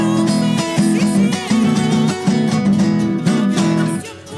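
A guitar plays Chilean folk music, a steady strummed rhythmic pattern of resonant low chords that loops several times before fading at the end; no voices.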